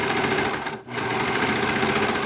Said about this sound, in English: Now with the serger, you do not need to backpedal or anything. It just automatically starts cutting the material